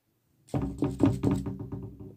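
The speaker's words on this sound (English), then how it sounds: "No, Ursa, I should knock." Cartoon door knocking, a close series of about six firm, hollow knocks in a steady rhythm, loud and isolated with no voices over it.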